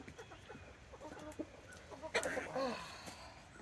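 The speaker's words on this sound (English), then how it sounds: "they're pretty tame birds, but they still are very cautious about a lot of things" Tame chickens cluck nearby around pumpkins, with soft, irregular clucks and a couple of louder squawky calls. A person is heard faintly in the background.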